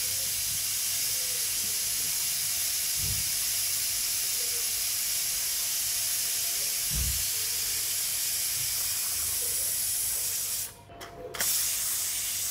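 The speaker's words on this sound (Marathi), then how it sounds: "दोन ते 3 शिट्ट्या झाल्यानंतर कुकर साईडला ठेवून द्यायचे थंड होण्यासाठी" A pressure cooker with vegetables inside lets out steam in a steady, broad hiss that fills the whole stretch and cuts out briefly near the end. A few dull knocks sound underneath.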